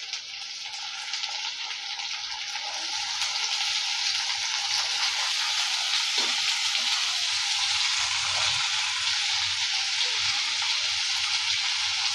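Sliced potatoes fry with curry leaves in a pan, giving a dense, continuous sizzle close by that grows slightly louder after the first few seconds and holds steady to the end.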